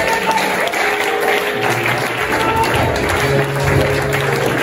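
A church congregation applauds and cheers in acclamation of the Lord, a steady, loud wash of clapping and voices filling the whole moment without pause.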